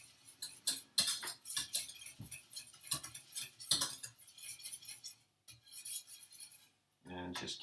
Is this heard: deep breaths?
no